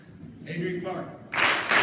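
Audience at an upper school fall sports assembly claps for the ninth grade players: a voice speaks briefly, then a burst of dense, close clapping fills the last half second and keeps going to the end.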